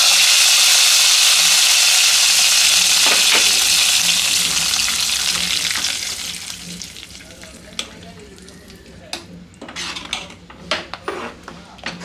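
A hot tempering of mustard seeds and curry leaves is poured into a black chana curry. It sizzles loudly at first, then fades as a spoon clinks and scrapes against the pot while stirring.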